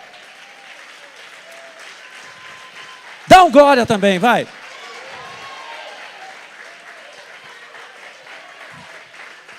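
A church congregation claps, a steady applause bed that runs throughout beneath a loud speaking voice and continuing talk.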